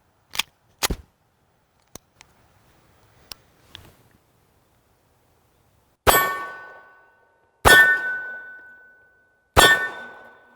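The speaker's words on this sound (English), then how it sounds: "Let's put a few rounds in this thing, launch them downrange, and see how it shoots." A Dan Wesson Valkyrie .45 pistol is fired at a range: a few faint clicks and small knocks at first, then three loud, sharp reports with ringing tails, spaced about two seconds apart.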